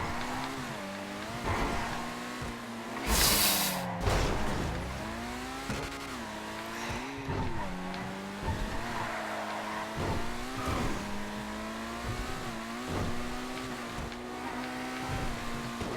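A supercar races in GTA V on FiveM, its engine wailing in rising and falling pitch through gear changes and revs, with a brief loud tyre-screech burst near the start, continuous and close.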